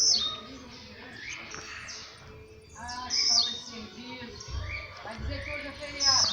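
A blue-black grassquit (tiziu) gives short, high chirps in intermittent bursts while someone talks over much of it, with low rumbling background noise.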